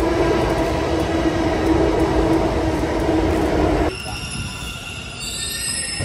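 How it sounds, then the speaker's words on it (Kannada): A metro train runs past, a loud, steady rumble with high wheel squeal for about four seconds, then a quieter, tonal ride that stays in the background. "ಮೆಟ್ರೋ ಟ್ರೈನ್ ಅಲ್ಲಿ ಬರ್ತಾ ಇದೆ"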